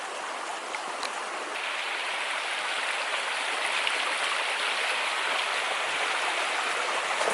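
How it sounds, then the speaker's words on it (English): Steady rain falls outdoors, a dense, even hiss of drops on surfaces that holds at a constant level throughout, with no voices. "Started raining again."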